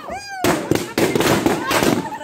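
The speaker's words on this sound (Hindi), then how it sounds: "तो यहाँ पे सब पटाखा फोड़ रहे हैं," At a New Year celebration, a whistling rise, then a series of sharp firecracker bangs and crackles in quick succession, loud and close, with voices in the background.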